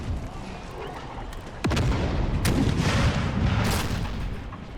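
Musket volleys and artillery fire from a battle in the strategy game Empire: Total War, a burst of booming shots rising into a sustained, loud roar of gunfire with sharp individual cracks.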